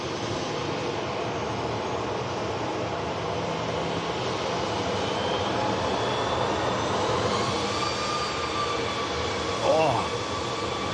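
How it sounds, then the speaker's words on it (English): EasyJet airliner arriving from Faro, a steady engine rumble with a faint rising whine near the end, heard from some distance at a constant moderate level. "This EasyJet arriving in from Faro."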